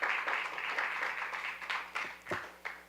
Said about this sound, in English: Please give the new members of our youth government a round of applause.